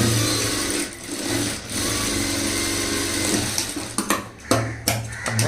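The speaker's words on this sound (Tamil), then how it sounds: "அதே மாதிரி இந்த சைடும் தையல் போட்டுடலாம்." A sewing machine stitching a side seam on a front-gap blouse, giving a steady close mechanical whir that pauses briefly before a few short start-stop bursts near the end.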